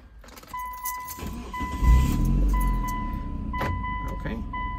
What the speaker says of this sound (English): 180 milliseconds for cranking the car